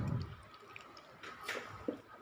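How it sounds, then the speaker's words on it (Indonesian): Coconut milk drips and splashes while grated coconut is squeezed by hand, a few soft wet plops and squishes spaced irregularly, close but quiet. "aneh-aneh aja tuh santan jatuh tuh. Cipratan santan tuh."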